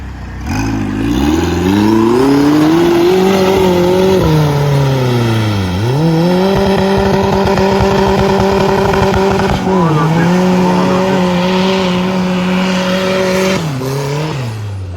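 A turbocharged Lada Niva, its engine built from factory parts with an added turbo and fitted with Willys axles, revs hard while driving through a swamp. The loud, close engine note rises and falls in several surges with pitch sweeps, and people talk over it.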